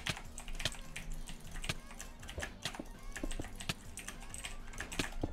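Rapid jitter clicking of a computer mouse during gameplay, mixed with keyboard key presses, producing dense, fast, close-up clicks in irregular bursts throughout.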